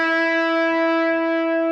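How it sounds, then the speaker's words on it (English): Electric guitar played as a grace-note bend, a single sustained note bent immediately into pitch and ringing alone for under two seconds, loud and close with a rich harmonic tone. "When you do a grace note, you bend into that note immediately."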